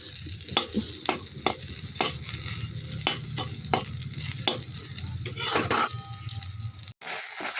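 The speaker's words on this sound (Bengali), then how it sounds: "নিম পাতা ভাজছি" Neem leaves frying in a pan crackle and sizzle close by, with repeated sharp scraping strokes of a spatula stirring them at an uneven rhythm, then a brief break near the end.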